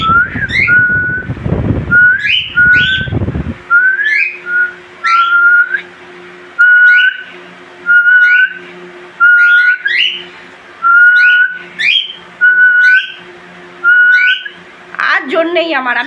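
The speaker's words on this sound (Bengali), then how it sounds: "আমি অত ভালো সিটি মারতে পারি না" Human whistling in short repeated rising-and-falling phrases, each a loud bright burst separated by brief pauses, close to the microphone, with a faint low hum beneath and a rougher sound at the end.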